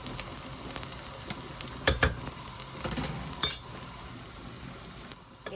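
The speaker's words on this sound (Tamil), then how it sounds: "இந்த மாதிரி வதக்கி விட்டோம்னா" Mushrooms sizzle steadily in a hot pan while a utensil stirs and scrapes through them, with a few sharper clacks against the pan.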